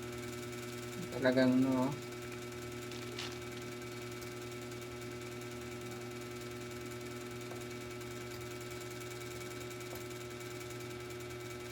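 A small four-stroke mini engine runs at a steady idle, a quiet even hum that continues throughout, with a short burst of talk near the start.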